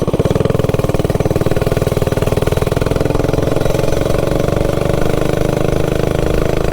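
A budget stage 3 engine runs steadily just after installation, a loud, continuous, close-up rapid chugging drone with even pulses and no pauses.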